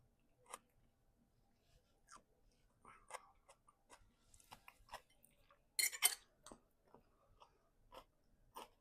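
Close, quiet chewing of potato salad with egg, potato and celery: scattered soft wet clicks and mouth sounds spaced irregularly, with a brief louder crunch partway through.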